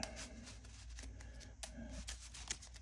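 A deck of cards is shuffled at a table during a game, a quiet run of riffling and flicking bursts close by with brief pauses between them.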